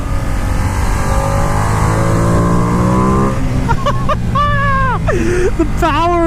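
Ducati XDiavel S motorcycle engine revving loud and close, a sustained high-rpm roar that climbs in pitch through several sharp gear changes amid heavy wind noise.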